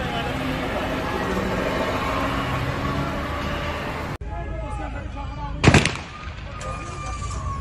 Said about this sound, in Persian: الان تیراندازی شروع کرده، داره میزنه.